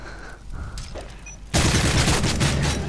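Submachine gun fire in the video game Modern Warfare 3: a quieter stretch of game ambience gives way to a loud, sustained burst of rapid automatic shots that runs to the end.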